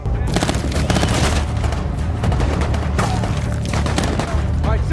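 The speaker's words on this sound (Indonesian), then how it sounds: "mereka semuanya pun harus baku tembak" Rapid bursts of gunfire crackle back and forth in a loud, chaotic exchange with Taliban fighters in a war film, with shouting voices mixed in among the shots.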